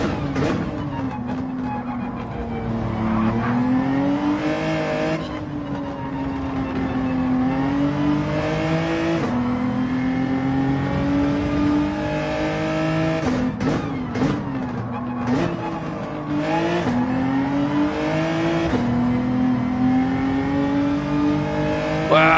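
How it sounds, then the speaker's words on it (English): Race cars in a racing video game at Interlagos, a loud, continuous engine whine that rises and falls with repeated gear shifts and throttle lifts, other cars buzzing close by. "look at all those cars, man"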